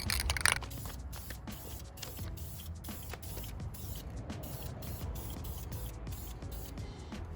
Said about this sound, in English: But I'm gonna spray the clear coat.